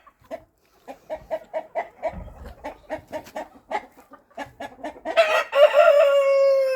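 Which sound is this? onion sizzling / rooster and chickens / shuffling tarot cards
rooster and chickens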